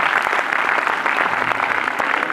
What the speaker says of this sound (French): Je crois qu'on peut applaudir très très fort Noé, s'il vous plaît.